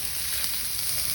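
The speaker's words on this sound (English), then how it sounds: "I'm gonna add some garlic butter into that." Garlic butter sizzling in a hot pan with steak and vegetables, a brief, even, hissing crackle with no pauses.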